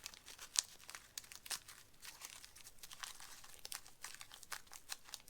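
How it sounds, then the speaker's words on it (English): Masking tape being pulled and pressed over crumpled balls of newspaper while shaping a paper mache bat armature; close, quiet crinkling and tearing rustles in irregular bursts, with one sharper rip near the start. "I'm going to apply my masking tape over my balls of newspaper."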